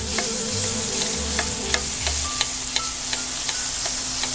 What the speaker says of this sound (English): we're just gonna sear that one side of the fish while basting the bottom